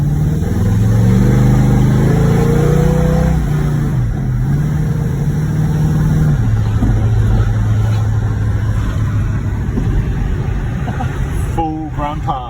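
A Ford XD Fairmont ute with a 351 engine drives along, producing a steady engine drone with shifts in pitch as it changes speed, heard from inside the cab alongside road noise.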